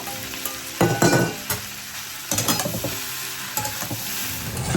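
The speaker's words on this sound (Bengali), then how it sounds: "এদিকে আমি মাছের ঝোলে আলু আর সজনে ডাঁটা ভাজছি" Potatoes and drumstick vegetable pieces fry in a pan for a fish curry, giving a steady close sizzle with a few louder bursts of stirring and scraping partway through. No one speaks.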